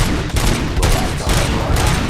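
A rapid burst of gunfire from the video game RoboCop Rogue City fills the clip, loud dense overlapping shots with heavy low-end thumps and no pauses, close and continuous with no talking.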